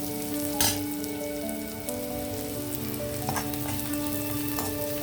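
Garlic sizzles in hot tempering oil for a Telugu dal with banana flower, a steady crackling fry with occasional sharper pops and stirring scrapes, close and continuous with no talking.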